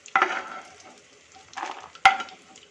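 A spoon stirs dry fruits and raisins frying in ghee in a pan, producing three scraping, sizzling bursts separated by quieter gaps.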